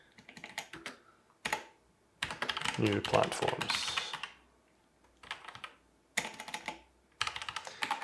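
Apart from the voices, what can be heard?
typing on a computer keyboard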